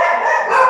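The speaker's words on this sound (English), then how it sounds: "I don't know what they're barking at." Dogs bark loudly and close, a dense overlapping burst with no talk over it.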